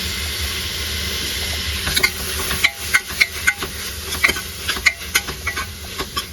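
Chopped tomatoes frying with onions and green chillies in a pan, a steady close sizzle with sharp scraping and clinking taps from stirring growing more frequent in the second half.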